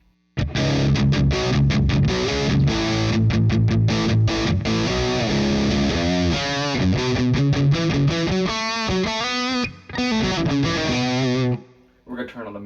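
A 2019 Gibson Les Paul Junior DC electric guitar plays through the dirty channel of an Orange TH30 amp, giving thick, distorted chords and riffs that ring loud and continuous before stopping abruptly near the end.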